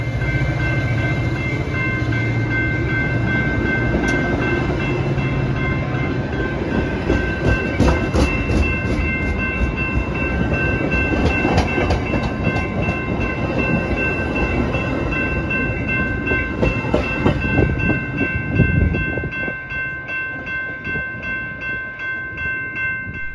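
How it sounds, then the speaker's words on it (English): A Metra commuter train rumbles loudly and continuously along the tracks heading west towards Elburn, with rhythmic clickety-clack of wheels and steady mechanical hum, easing slightly near the end. "our train roars west towards Elburn"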